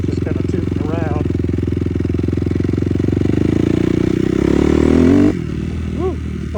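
A Honda CRF250 dirt bike rides along in second gear, its single-cylinder engine burbling close with a steady rapid thump that rises in pitch and loudness before dropping off, accompanied by faint clatter.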